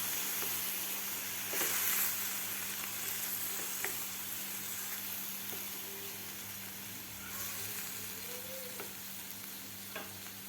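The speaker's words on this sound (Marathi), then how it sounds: "आता आपल्याला हे व्यवस्थित मिक्स करून घ्यायचं आहे" A spoon stirs a wal bean pod curry in a pan after a little water and spice paste are added, giving a soft, steady sizzle with occasional faint scrapes. The sound is fairly quiet, with no talking.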